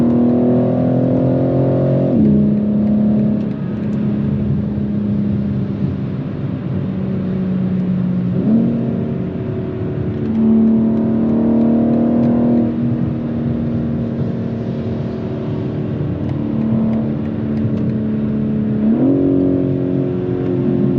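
A BMW G82 M4 with the S58 engine pulls hard through repeated gear changes while driving, its loud, steady engine note rising and dropping at each shift, with no talking.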